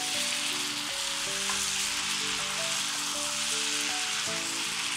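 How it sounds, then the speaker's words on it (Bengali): Chicken pieces fry in a pan with ginger and garlic paste for an Iranian chicken karahi, with a steady dense sizzle throughout, close and loud, and a low hum under it. "এই আদা বাটা রসুন বাটার সাথে মাংসগুলোকে আরও মিনিটখানেক ভেজে নিচ্ছি।"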